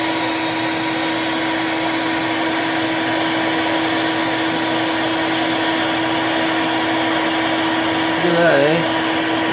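A modest shop vacuum draws sawdust from beneath a scroll saw, a steady whirring drone running throughout, with a brief spoken remark near the end over the suction noise.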